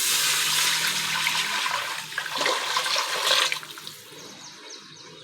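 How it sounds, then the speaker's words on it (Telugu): Water is poured from a glass into a pan of fried onions and green chillies for bagara rice, a loud rushing splash lasting a few seconds that tapers off into quieter trickling, with no one speaking. "ఆ గ్లాస్తోని వాటర్ వేసేసుకోవాలి"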